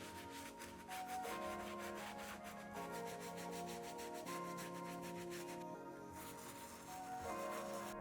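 A soft bristle brush scrubs a super dusty Yeezy 700 V3 Azael sneaker, giving steady close rubbing strokes that run continuously with brief pauses, loud and alone with no talking.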